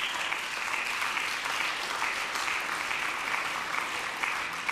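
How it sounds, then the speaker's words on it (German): Sustained applause in the Berlin state parliament chamber, many hands clapping in a dense, even wash that holds steady throughout. "Applaus"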